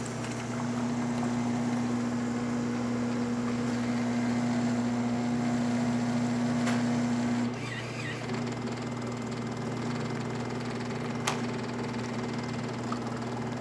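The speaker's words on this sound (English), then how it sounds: "So let's rinse the milk system as well." Jura Impressa C9 coffee machine rinsing its milk system, a steady mechanical hum with a droning pump tone that stops partway through, leaving a quieter background with a few faint clicks.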